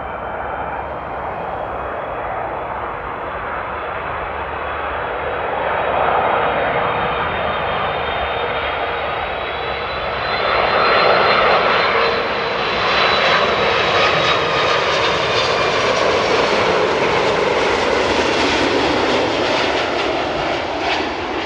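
A jet airliner roars in to land at Amsterdam Airport, its engine noise swelling from a steady rumble to a louder, rising whine as it passes close, then holding strong.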